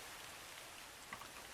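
Steady rain falls on muddy ground outdoors in a city, a continuous soft hiss of drops with no voices over it.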